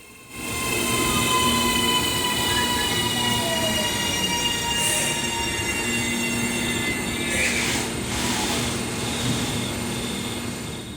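An AM class electric train in Auckland rolls past close by, a steady loud rumble of wheels on rails with high squealing tones and faint horn-like hoots over it.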